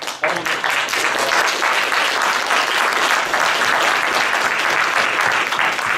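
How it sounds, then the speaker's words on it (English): Sustained applause from an audience at a 2017 competition event fills the room for all the participants, a dense, even wash of many clapping hands, loud and continuous from start to finish. "So let's just have a round of applause for all of them."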